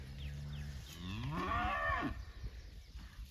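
A herd of cows moved onto newly leased farmland moos loudly and continuously, several overlapping drawn-out calls close by with calves among them.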